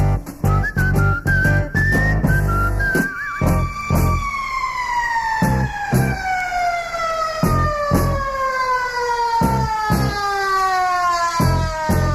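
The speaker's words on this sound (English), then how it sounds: "Whistle." A long descending whistle glides downward over several seconds, cutting through loud rhythmic percussive music; an earlier wavering whistle trills briefly before it.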